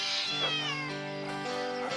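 A kitten meows in a long, continuous, wavering cry that rises and falls in pitch, close and clear with no talking.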